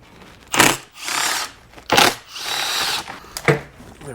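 A power tool whirring in three or four short, loud bursts close up while removing 8mm bolts from a radiator fan on a 1997 Cobra, with brief pauses between bursts.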